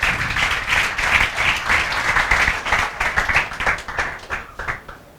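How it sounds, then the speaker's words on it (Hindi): A lecture class bursts into loud, sustained applause, many hands clapping close and steady before thinning into scattered claps at the end. "हिमांशु चौरसिया के लिए जोरदार तालियां बजाओ बाबा, बजाओ।"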